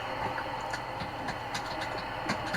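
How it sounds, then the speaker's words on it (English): A yellow train at a city station, a steady loud rumbling drone with scattered clicks and clatter layered through it, continuous throughout. "The poopy yellow train."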